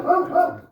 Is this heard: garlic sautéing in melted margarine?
no